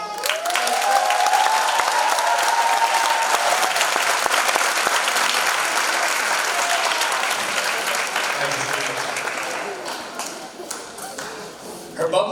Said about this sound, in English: We all deserve a big round of applause for making it this far.